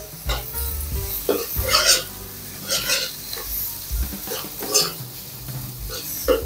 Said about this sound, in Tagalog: Haluin lang natin yan. Tustahin lang natin konti ang harina.